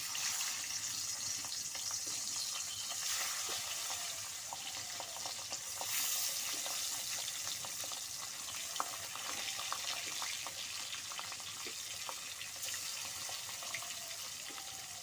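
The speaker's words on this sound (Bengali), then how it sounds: "এবার আমি কড়াইয়ের মধ্যে দিয়ে দিচ্ছি মাছ।" Pabda fish sizzle and fry in hot mustard oil in a kadai, a loud continuous hiss with scattered crackles and pops and occasional clinks of stirring, close up and steady.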